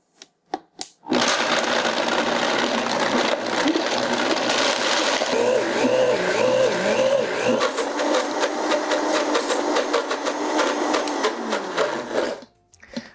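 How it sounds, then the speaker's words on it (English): A blender whirs loudly and continuously as it grinds peanuts into chocolate chip peanut butter, starting after a few clicks, with a pitch that rises and shifts as the speed increases before it cuts off. "we're going to blend it. We're going to start on low and then gradually increase the speed until it's creamy and smooth"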